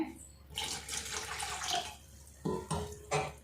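Leftover rice water splashes and trickles in bursts into ragi porridge, poured in short pours with brief pauses, close by and fairly loud.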